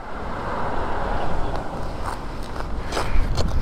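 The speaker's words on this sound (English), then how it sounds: "Oh, it's got windy, eh?" Steady wind roars and buffets against the microphone on a motorcycle ride near Maungaturoto, New Zealand, a continuous low rush with gusts swelling louder toward the end, no one speaking.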